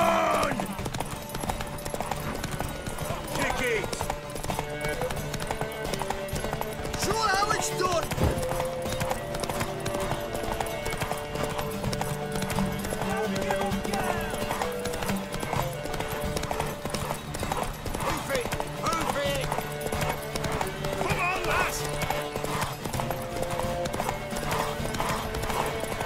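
Steady rhythmic hoofbeats of a galloping horse in the video game The Witcher 3: Wild Hunt continue throughout, mixed with music and occasional voices.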